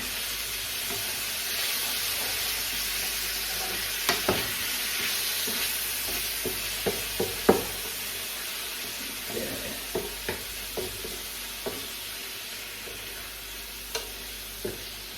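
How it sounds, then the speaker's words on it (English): Steady sizzle of vegan chilli garlic chicken frying in oil in a hot pan, with scattered clicks and light clatter like stirring; no voices. "Cool down the sizzling"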